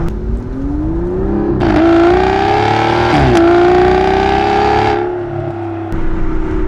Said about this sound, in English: The V12 sounds really, really good. You can really, really hear it.